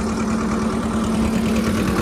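A tractor engine runs at a steady idle close by, with an even, throbbing mechanical drone and no voices over it.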